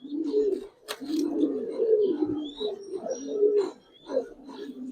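Giribaz pigeons, including large silver and colored birds, coo softly in repeated rolling calls, with a sharp click and faint chirps among them in a quiet setting.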